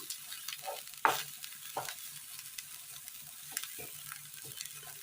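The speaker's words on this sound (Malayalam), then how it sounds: "ചെറിയുള്ളി ഒരെണ്ണം ചെറുതായി അരിഞ്ഞത് നല്ലതുപോലെ ഒന്ന് വാട്ടിയെടുക്കാം" Finely chopped shallot sautéing in a pan for a Kerala-style nadan curry, a soft steady sizzle with a few louder stirring scrapes and clicks, close and fairly quiet, with no talk.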